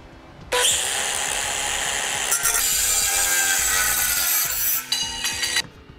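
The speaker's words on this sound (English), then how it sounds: "we'll cut it off using a cutoff tool" A cutoff tool slices through a metal panel held in a vise during a battery disconnect installation on a 2018 Chevrolet, a loud, steady grinding whine lasting about five seconds with slight shifts in pitch as the cut progresses.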